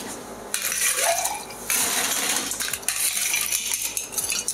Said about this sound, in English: we're just gonna start adding some ice and then stir